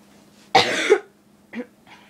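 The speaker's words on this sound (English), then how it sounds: "for some reason, it's making me cough" A sharp, close cough followed by a smaller second cough and a faint throat sound, then quiet.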